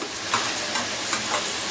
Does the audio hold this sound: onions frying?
yes